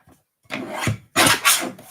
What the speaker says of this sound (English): I'm just going to match those up on the trimmer. So I'm going to create 2 diagonal cuts.